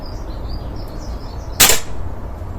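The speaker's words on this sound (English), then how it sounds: "Come down again, take the first shot there." Beeman air rifle firing at a paper target outdoors, a single sharp crack midway, fairly close, followed by a short decay over quiet background with faint birdsong.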